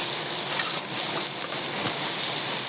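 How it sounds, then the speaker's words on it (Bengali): Cardamom and onion frying in hot oil, a steady broad sizzling hiss that runs continuously and evenly throughout. "ভাজা তেলের মধ্যে একটা এলাচ দিয়ে দিব, একটা এলাচ দিয়ে আর পেঁয়াজ দিয়ে দিব"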